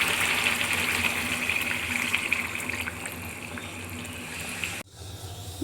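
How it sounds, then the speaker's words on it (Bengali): Water is poured into a pot of browned beef curry with potatoes, a steady close gushing splash that runs for several seconds and then stops abruptly. "এখন পানি দিয়ে দিচ্ছি।"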